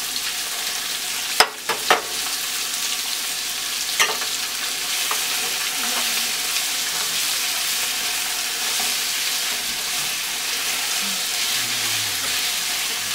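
Red, green and yellow peppers and onions stir-fry with a steady loud sizzle, and a few sharp clanks of a utensil against the pan near the start.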